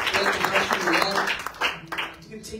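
A church congregation applauds during a Friday sermon service: a dense burst of many hands clapping close by, thinning toward the end, with voices mixed in.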